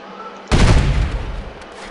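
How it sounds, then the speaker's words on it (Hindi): A tank explodes in the Delta Force video game, a sudden heavy boom that hits hard and then fades into a rumbling, crackling tail. "चलो फिलहाल अभी इस टैंक को भी उड़ा देते हैं।"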